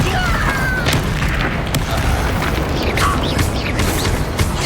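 Confringo blasting spell explosions in the video game Hogwarts Legacy, heard as loud, dense booming blasts and crashing impacts that run continuously through a goblin mine battle, with no talk.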